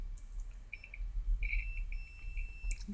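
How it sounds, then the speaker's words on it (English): Avometer set to its continuity buzzer during a radio repair, giving faint, short high beeps in an otherwise quiet room. "We adjust our avometer to the buzzer."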